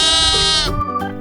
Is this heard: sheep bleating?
yes